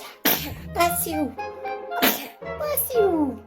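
A baby lets out two quick sneezes, close to the mic, each with a sharp burst and a small vocal trailing sound, with short breathy pauses between them.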